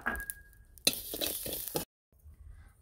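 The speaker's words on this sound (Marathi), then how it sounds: "आपण 2 चमचे कारळे घेतले ते भाजून घेणार आहोत." Two spoons of niger seeds (karale) roasting in a pan for masala vangi, stirred with a soft sizzle and scraping strokes that stop suddenly near the end.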